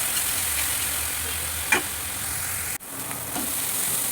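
Spices with Kashmiri red chilli powder fry and get stirred in a pan for a light katla fish curry, a steady close sizzle with a couple of brief stirring scrapes and a sharp clank midway.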